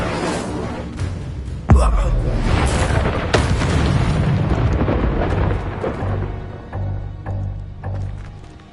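Fire spell cast during a fight in the Hogwarts Legacy video game: a sudden booming burst followed by a sustained roaring rumble of magic effects and combat noise, with a voice shouting over it.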